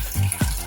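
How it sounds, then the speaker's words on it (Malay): Hot water gushes and splashes out of a Coway water dispenser during draining, a short, close, uneven pour with no voices. "Sekarang kita akan keluarkan air panas."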